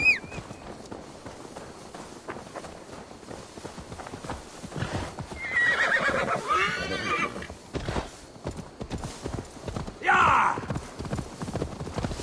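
Horse hooves clip-clop steadily through much of the stretch, with a loud neigh near the end, a ridden horse in Assassin's Creed Valhalla, set against game ambience and some voice.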